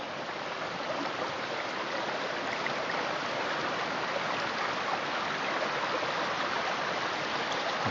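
The River Roeburn flows past an eroded bank where a fallen alder has brought down earth, a steady, dense rushing wash of water that stays constant and fairly close with no voices.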